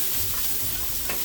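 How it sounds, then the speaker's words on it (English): Garlic paste stirred into onions frying in a pan, a steady close sizzle with soft scraping under it throughout, the brief stretch carrying no voices. "now we're gonna stir in the garlic paste that we prepared earlier"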